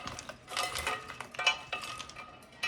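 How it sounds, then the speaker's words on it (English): Ice cubes from an ice maker clatter and clink as they are loaded into a blender for a smoothie, a quick series of hard rattling knocks, close and fairly loud. "So I just got this out of my ice maker, and I just load this up with ice."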